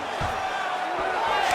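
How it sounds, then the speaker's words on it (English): An arena crowd in the UFC 5 fighting game roars in a broad, moderately loud swell, with a commentator talking over it and a few soft thuds beneath. "huge pop from the crowd as the fighters get back up to their feet"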